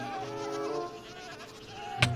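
Goats bleat in the video game Minecraft, wavering tones that rise and fade over a background buzz, with a sharp click near the end.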